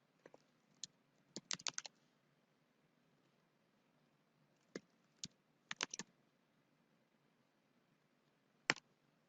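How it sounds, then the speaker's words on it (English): Scattered bursts of keystrokes on a computer keyboard, quiet and close, arriving in short clusters separated by pauses over a faint hiss. "In these other boxes, I'm going to type in possible answers."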